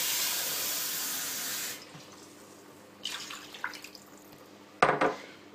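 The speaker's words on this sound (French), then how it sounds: "Maintenant, on va rajouter de l'eau." Water pours steadily into a cooking pot for couscous, then stops, followed by a few quieter splashes and a sharp metallic knock of the pot near the end.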